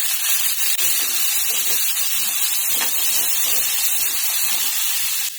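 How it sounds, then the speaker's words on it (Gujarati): Two chopped onions frying in hot oil in a home kitchen, for a Vadodara-style sev usal, giving a steady, loud, continuous hiss and sizzle that stays even throughout with no talk over it. "હવે જીની સમારેલી બે ડુંગળી લીધી છે એને આપણે શેકી લઈશું"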